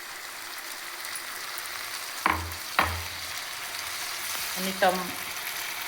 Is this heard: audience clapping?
no